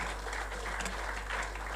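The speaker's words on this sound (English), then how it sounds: "Let's give him another round of applause." A conference audience claps for a speaker, a dense, even wash of applause that holds steady throughout this short moment.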